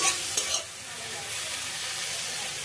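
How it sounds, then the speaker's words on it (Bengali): Chopped vegetables fry in a pan for a vegetable Maggi noodle dish while being stirred, giving a steady close sizzle with a few scraping stir sounds near the start. "এখন সমস্ত সবজি ভালো করে নাড়াচাড়া করে নেব।"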